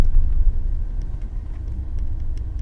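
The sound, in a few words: car driving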